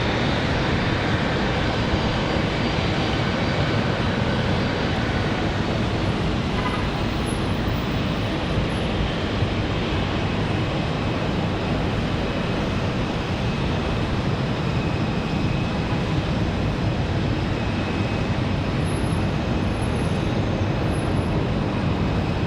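JetBlue airliner at Raleigh-Durham International Airport on a windy day, a loud, steady jet engine roar with broad rushing noise that stays constant throughout, no voices.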